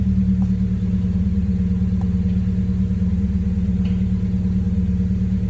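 A car engine idles just after a clutch swap, a steady, loud, low rumble that holds evenly throughout with no revving.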